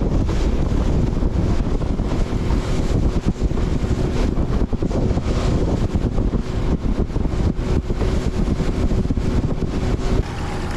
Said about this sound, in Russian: Так, короче, ветрище.